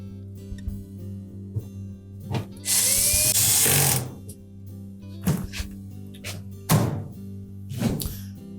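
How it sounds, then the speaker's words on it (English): Screws with built-in washers being driven into a Samsung dryer's bulkhead: a loud burst of power-driver whirring lasting about a second and a half, surrounded by sharp knocks, clicks and handling thuds from the metal panel. "Remember to put the 2 screws through into that bulkhead."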